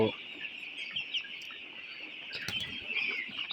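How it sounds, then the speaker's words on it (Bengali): Chickens cluck softly in a coop after morning feeding, faint scattered calls over a steady high hiss of background noise, with no talking. "আমাদের মুরগিগুলো আজকে সকালে খাবার দেওয়ার পরে এই ভিডিওটা"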